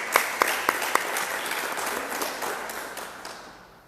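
A church congregation applauding during a Wednesday service, a burst of loud clapping with a few sharp claps up front that then fades away over a few seconds.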